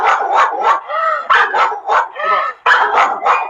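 A dog barks loudly and close in repeated quick bursts, with whining and yipping tones between the barks.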